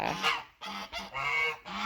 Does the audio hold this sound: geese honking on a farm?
yes